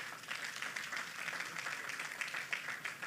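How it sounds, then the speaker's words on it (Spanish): Congregation applauding in a church, a steady dense wash of many hands clapping at moderate distance, sustained evenly throughout without spoken voices. "Dele un aplauso al Señor por la gente que sirve."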